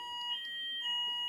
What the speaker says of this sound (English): Sorry, that's the fire alarm on our end.